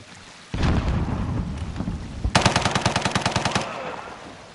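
Video game machine gun fire opens with a sudden burst of dense, rattling shots, then shifts into a loud, rapid string of evenly spaced heavy rounds, each crack sharp and close, before cutting off abruptly.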